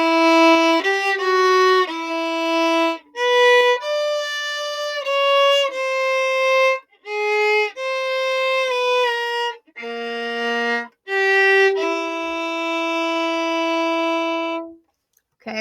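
A solo violin plays a slow, close, clear melody, with sustained bowed notes and short breaks between phrases, ending on a long held note, with no talking.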